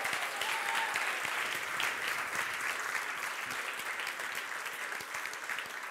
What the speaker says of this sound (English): Can we maybe have another big round of applause for all of them together?